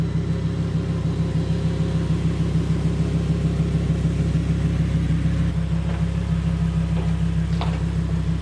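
A new car's engine idles steadily up close, a continuous low rumble with an even pulsing beat, a faint shift in pitch midway and a few light clicks toward the end.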